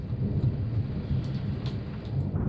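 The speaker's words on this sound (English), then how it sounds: "I just saw the lightning hit outside of the window." Thunder from a close lightning strike during a big storm, heard aboard a sailboat anchored in a hurricane hole: a heavy, continuous low rumble that rolls loudly through the whole stretch with no talking.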